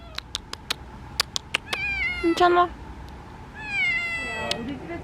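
A stray kitten born on the street meows repeatedly, short clear calls in a quick series followed by longer drawn-out mewing, close by, while people speak softly nearby.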